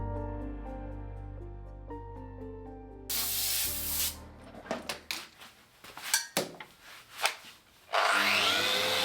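Loud, harsh broadband whirring of a router bit cutting wood for a coffee table, with bursts and surges in intensity, following a quieter stretch of tonal music.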